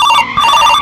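A telephone rings loudly and steadily in a household, a bright electronic tone sounding alone and unbroken.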